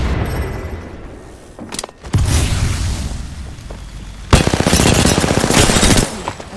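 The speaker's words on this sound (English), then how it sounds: "Grenade." A grenade explodes in the video game Apex Legends, two sharp booming blasts ringing out close and loud among bursts of rapid gunfire.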